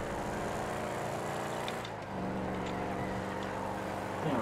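Car engine driving in GTA 5, a steady continuous engine drone with a brief dip midway and a rising rev near the end.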